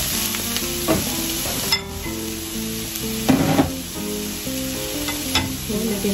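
Broccoli sautés with garlic in a hot pan, a steady close sizzle punctuated by a few sharp stirring scrapes and clatters.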